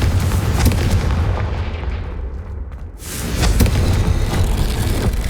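Confringo fire spell cast in the Hogwarts Legacy video game, a sustained booming blast that rumbles loudly throughout, dipping briefly mid-way before surging back with a roaring crackle.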